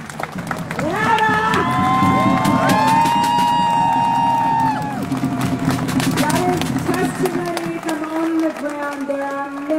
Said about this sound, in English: Please round of applause for Jana.